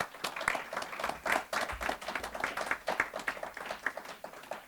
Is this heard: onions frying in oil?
no